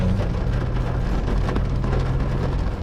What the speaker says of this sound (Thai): ฝนตกก็ต้องเปียกไม่เปียกก็ไม่ใช่ฝน